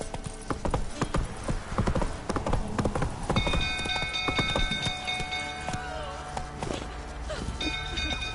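Roach gallops in The Witcher 3 with fast, pounding hoofbeats up close, set against music and game sounds, and a voice speaks over part of it.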